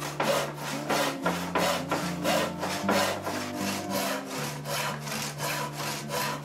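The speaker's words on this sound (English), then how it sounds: "I'm going to start out by cutting all my pieces of wood from this large plank of ash." A hand saw rasps through an ash plank in steady back-and-forth cross-cutting strokes, about two per second, close and clear with no talking.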